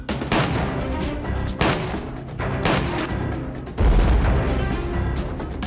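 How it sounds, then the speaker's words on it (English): Several sharp gunshot reports from a Steyr SPP pistol fired two-handed, arriving as loud bursts spaced about a second apart, the last shot leaving a heavier low rumble, no voices. "you can actually shoot it as a two-handed pistol"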